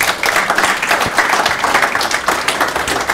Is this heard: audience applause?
yes